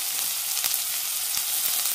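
Chopped onions hitting hot oil with spices for a cauliflower and pea kuruma, a loud, continuous close-up sizzle with faint stirring clicks.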